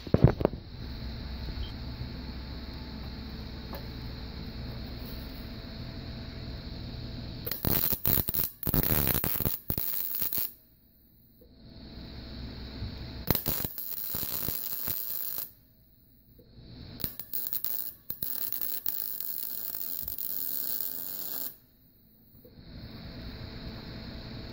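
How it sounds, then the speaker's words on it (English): Steel brackets for a laptop car mount being welded, a loud crackling, hissing arc in several long bursts separated by short pauses, alone with no talk. "So now it's time to do some welding."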